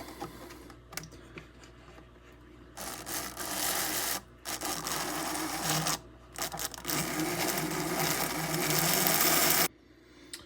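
The small electric motor of a Tri-ang Stephenson's Rocket toy train whirs in bursts, close by, starting and stopping several times with a buzzing mechanical hum.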